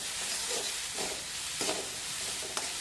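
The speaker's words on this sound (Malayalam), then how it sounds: "ഒരു 2-3 മിനിറ്റ് നന്നായി ഒന്ന് വഴറ്റാം." Shredded cabbage with chopped green chilli sautéing in a pan, a steady soft sizzle with intermittent scraping stirs of a spoon, fairly quiet and close, no talking.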